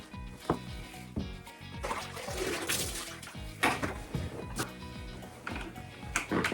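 Water rushes and sloshes as grass seed is rinsed in a bucket. The swirling, splashing wash rises and falls continuously up close, with occasional knocks against the bucket and no speech.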